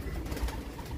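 A racing pigeon comes in to its loft during a 300+ km derby race, a brief, faint rustle over steady outdoor background noise.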